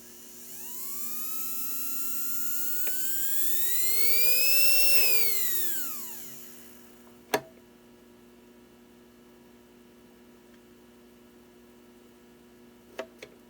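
A brass United Models steam engine model with a new power plant runs at its lowest throttle, giving a thin whirring whine that rises and falls for about seven seconds before dropping to quiet, broken by a couple of sharp clicks.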